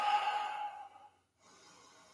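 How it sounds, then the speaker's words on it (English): A long, soft exhale during a vinyasa yoga flow, breathy and close, fading out before a brief pause and a fainter breath that follows. "Deep breathing."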